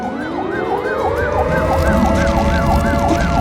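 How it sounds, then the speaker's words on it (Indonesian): An early warning siren for the Merapi volcano wails in a fast rising-and-falling sweep, loud and continuous, with a low steady rumble underneath and no talk. "Jadi sirine ini dibunyikan pada saat kondisi krisis atau kondisi darurat."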